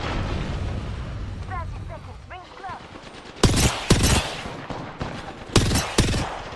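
Gunfire in the Apex Legends video game cracks out in several loud, sharp shots in quick succession after a quieter stretch with brief distant bird-like chirps.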